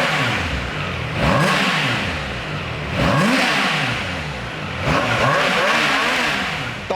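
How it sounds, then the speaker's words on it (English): A 2023 Triumph Tiger Sport 660 motorcycle engine revs up three times in a row, each rising whine with a throaty exhaust rumble, then easing back to idle between blips. "Now let's listen out the exhaust note."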